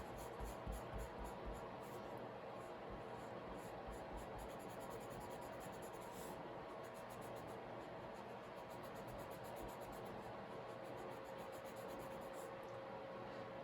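Eraser rubbed back and forth on paper to remove a pencil line in a drawing of cloth, a soft, faint scrubbing rasp in quick repeated strokes against a steady background hiss, with no talking.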